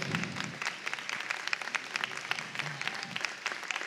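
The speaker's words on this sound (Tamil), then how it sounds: "எழுந்து நின்று கரகோஷம் கொடுக்கலாம்" Audience applause fills a Bharatanatyam dance festival hall: dense, steady clapping from a large crowd, sustained throughout without a break.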